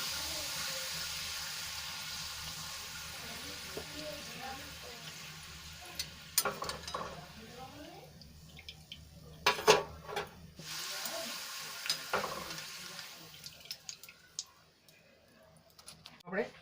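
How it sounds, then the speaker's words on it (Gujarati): Papad frying in hot oil makes a soft, bubbling sizzle with scattered clicks and utensil taps, fairly quiet, while a person talks over it. "તેલ આપણું ગરમ થઈ ગયું છે તો પાપડને આપણે તળી લઈએ"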